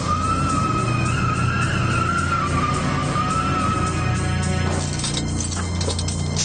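A loud, continuous screech of tires dragging on pavement from a car with a locked front axle being towed, over a heavy engine rumble, the wailing pitch shifting before breaking into rougher scraping.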